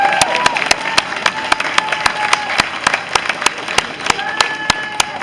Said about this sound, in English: all the frontline workers deserve a massive round of applause for all they've done